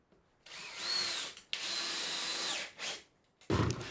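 A power drill drives screws into wooden flooring in a workshop, with two long close whirring runs, a short burst, then a sharp knock at the end. No voices.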